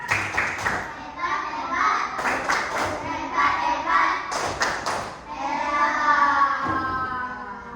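Schoolchildren in a primary classroom perform a rhythmic clapping chant for a student group, with sharp claps and thuds in patterned bursts mixed with children's chanting voices, loud and close throughout.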